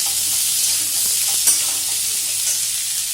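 Vegetables fry in a pan while being stirred, a steady close sizzle and hiss with a few scraping stir strokes and no talking.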